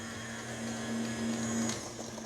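An electric mixer runs steadily on a medium speed, blending dry ingredients into wet cookie dough, with a constant motor hum and no one talking.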